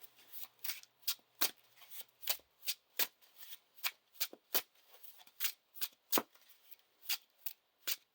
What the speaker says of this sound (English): shuffle 6 cards into our deck and draw 6 new cards